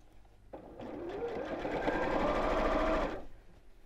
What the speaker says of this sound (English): Take your time and sew it in place.